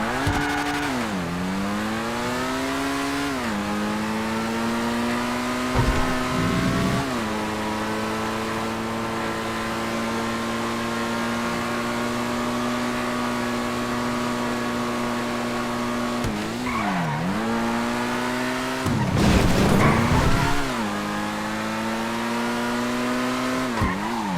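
An S80RR car on a test ride with a steady engine drone that dips and climbs through gear changes, plus a couple of bursts of tire squeal and skidding, close and continuous with no talk.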